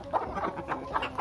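Farmyard hens cluck in short repeated bursts, about five quick calls in a loose rhythm, close and moderately loud with no talking.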